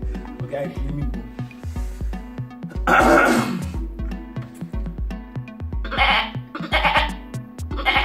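Someone imitates a goat, letting out a string of loud, quavering bleats close up with short breaks and a throaty rasp between them, over rhythmic background music.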